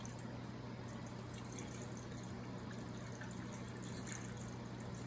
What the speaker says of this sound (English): I do need to fill up 4 liters of water in here